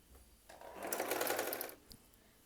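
A sewing machine stitching along the folded hem of a Patiala salwar runs in one short burst of about a second, a close, steady whirring buzz with rapid needle ticks, then stops with a small click.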